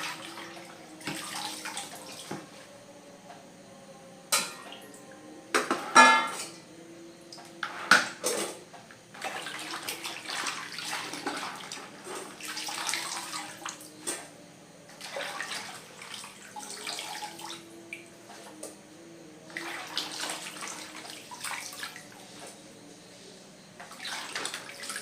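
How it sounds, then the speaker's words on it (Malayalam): Spinach leaves being washed by hand in a basin of water in a home kitchen, with soft, continuous sloshing and splashing and a few louder splashes and clatters partway through, close and without speech. "ഒന്നുകൂടി ഞാൻ കഴുകുന്നുണ്ട്."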